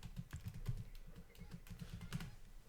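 Quick, uneven keystrokes on a computer keyboard as a password is typed, close and fairly soft, with no one talking.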